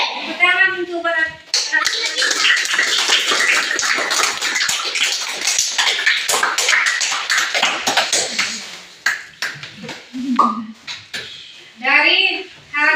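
Children in a classroom break into a long burst of dense hand clapping, bracketed by an adult voice speaking before and after the applause.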